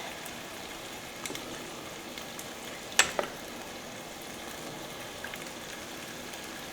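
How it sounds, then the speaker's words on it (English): Gnocchi browning in tomato oil in a pan, a soft, steady sizzle and crackle with a couple of sharper pops and a light utensil clink near the middle. "Hopefully I can use the liquid, like the oil from the tomatoes, to brown the gnocchi a bit."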